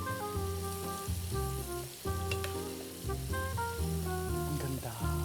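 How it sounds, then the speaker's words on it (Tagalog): Calamari frying in hot cooking oil, with a steady soft sizzle running under prominent music throughout. "Pag nagiging peaceful na yung mantika, ibig sabihin malapit nang maluto yan"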